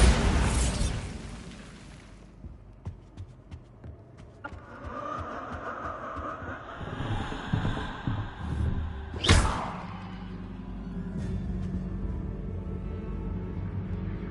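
Bombarda blasting spell explosions in the video game Hogwarts Legacy: a loud booming burst at the start and another sharp blast later, with rumbling game sounds in between.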